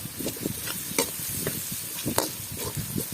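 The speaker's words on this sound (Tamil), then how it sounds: "அப்படி மல்லித்தூள் போட்டு ஒரு மிக்ஸ் கொடுத்துக்கலாம்." Chili powder and coriander powder being stirred into a pan for gobi manchurian, a close, steady sizzle broken by repeated short scraping strokes of a spoon, with no talk.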